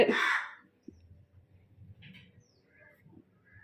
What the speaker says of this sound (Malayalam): കാക്കച്ചി വിരുന്ന് വിളിച്ചിട്ടുണ്ടോ അവിടെ